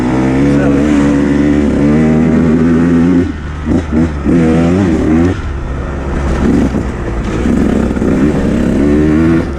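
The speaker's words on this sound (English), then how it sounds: "you wouldn't expect from a small bore two-stroke to have a ton of bottom end" A 2019 Husqvarna TE 150 small-bore two-stroke dirt bike engine on a wet, technical trail ride, droning loud and close with a steady buzzing note that dips briefly and rises again under continuous talk.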